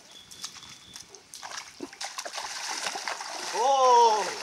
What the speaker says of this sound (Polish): Ja idę pływać.